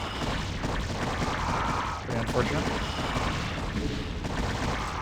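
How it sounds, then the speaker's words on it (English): Ongoing battle explosions and weapon fire in StarCraft: Brood War, a continuous rumbling barrage of booms and crashes at even loudness, with someone talking over it. "Why are the explosions all red?"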